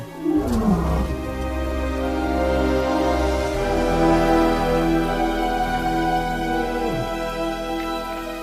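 A male lion roars in a long, deep, sustained call with a resonant low rumble, close and loud, without any speech.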